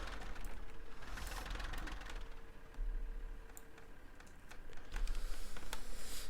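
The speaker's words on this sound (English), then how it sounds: "it does all that old-fashioned startup sound to fucking play a really nice modern tractor noise" A modern tractor engine in the Farm Sim video game runs at a steady low idle, with a constant low hum overlaid by faint rhythmic ticking and clattering that swells slightly toward the end.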